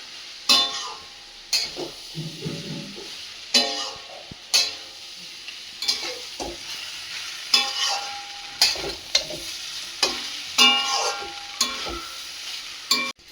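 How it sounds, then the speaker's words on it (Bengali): Chira (flattened rice) being stirred in a frying pan for a winter morning tiffin, with a steady rhythmic scraping and sizzle, roughly one stroke per second, close and clear with no talk. "এই যে একটু নাড়ছি, আপনারা দেখুন"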